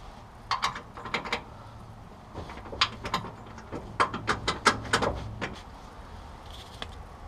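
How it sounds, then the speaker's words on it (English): Tools tighten the idler arm bolt on the steering linkage of a 1972 Oldsmobile Cutlass, giving a close series of quick metallic ratcheting clicks in short bursts with small pauses between them. "The good old tightening down the idler arm."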